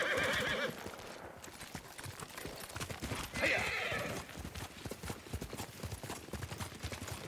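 Horse hooves clip-clop steadily at a trot in Ghost of Tsushima, with a couple of whinnies rising over the rhythmic footfalls.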